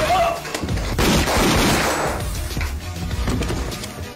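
Loud, dense movie gunfire rips through a film action scene, with rapid overlapping shots and booming blasts filling the whole stretch at close range, with no pause.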